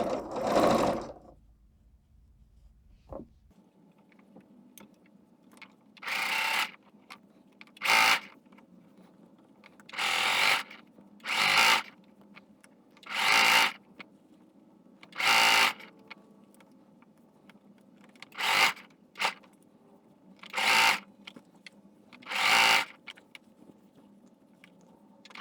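Domestic sewing machine running straight stitch and back stitch while converting palazzo trousers into a dress, with about a dozen short whirring bursts separated by pauses, close and clear, with no talking.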